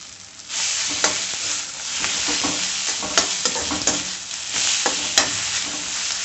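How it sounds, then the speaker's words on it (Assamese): Chopped cabbage and egg frying in a pan, a steady loud sizzle broken by repeated scraping clicks of a spatula stirring, with no voices. "এয়া চব ভাজ খাই আছে"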